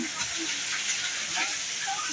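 Rain falling outside a neighbourhood grocery shop, a soft steady hiss of drops on surfaces heard from indoors, faint and continuous throughout.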